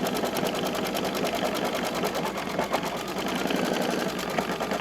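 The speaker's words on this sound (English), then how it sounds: "And it's stitching around." An embroidery machine stitches applique over the edge of a tea towel, a steady, fast, rhythmic mechanical whirring that stays close and even throughout, with no talk.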